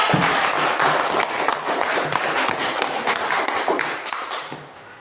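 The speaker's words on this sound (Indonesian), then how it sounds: "Oke, tepuk tangan lagi." Classroom applause after a lesson question at an Indonesian school, a dense crackle of many hands clapping steadily for about five seconds before thinning and fading near the end.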